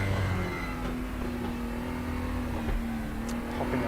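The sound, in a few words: race car engine popping and banging on overrun, RaceRoom video game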